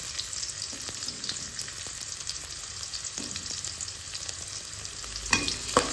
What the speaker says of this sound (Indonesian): Ini kita aduk sampai benar-benar wangi. Setelah bawang merah, masuk bawang putih.